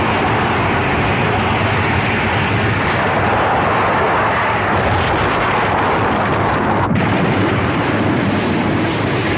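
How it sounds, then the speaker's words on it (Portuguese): A huge Hakai aura blast from an anime erupts as a loud, dense roar of broadband rumble, sustained without pause for the whole stretch, with a brief dip near the end. "ele faz uma enorme explosão de Hakai, que desintegra tudo no alcance da explosão"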